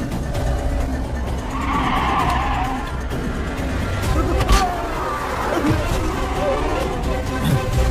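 Car skidding to a halt in a Hindi-dubbed South Indian action film, tyre squeal sweeping through a busy, loud mix of engine roar and background noise, with voices in the scene.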